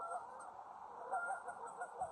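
Ducks outdoors give faint, distant quacks and honks, repeated irregularly over a steady background hum.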